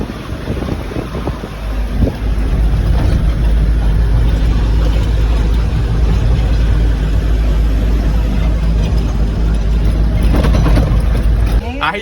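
A truck on a muddy road: a loud, steady low engine rumble with gusting wind buffeting the microphone throughout, while voices talk faintly in the background.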